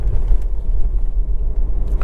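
A Ford EcoSport Titanium three-cylinder drives through city streets, its low engine and road rumble steady and close throughout, with no voices.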